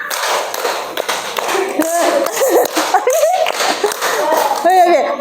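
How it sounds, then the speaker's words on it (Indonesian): School class clapping hands in counted patterns, sharp sparse claps in groups mixed with children's voices and a teacher talking throughout. "Kalau 2 kali tepuk 5"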